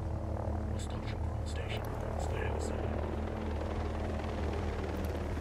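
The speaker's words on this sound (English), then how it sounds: "Quick! Helicopter's coming!" A helicopter drones in the video game Ghost Recon Breakpoint, a steady low rotor hum with faint game clicks over it, moderately distant and holding level rather than swelling.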